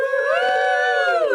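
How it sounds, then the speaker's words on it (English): A podcast studio audience cheers and whoops loudly in a sustained burst, with bright overlapping shouted voices filling the whole moment. "We got an extra cheer there"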